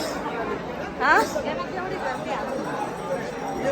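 Crowd chatter at the Jejuri fort temple, a dense babble of many voices with one louder voice rising briefly above it.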